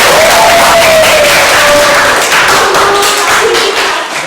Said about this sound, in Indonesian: Tepuk tangan oleh Restu.